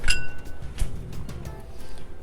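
Ice clinks and rattles against a chilled glass coupe as it is tipped out, a sharp cluster of glassy chinks at the start, then a second knock and fading rattle, close and moderately loud.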